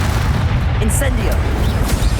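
Incendio fire spell cast in Hogwarts Legacy, a loud whooshing burst with a sharp pop over steady combat rumble, brief and close.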